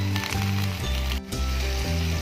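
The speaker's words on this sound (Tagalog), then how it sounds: "Nagigisa lang tayo ng sibuyas, bawang at saka sili." Onion, garlic and chili sautéing in a pan, a loud, close, continuous sizzle with faint scraping of stirring partway through.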